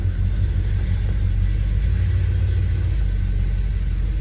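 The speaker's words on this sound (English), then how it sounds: "play with the truck." A 1978 Chevy C10 pickup engine runs steadily close by, a loud, continuous low rumble with no changes in pace and no voices over it.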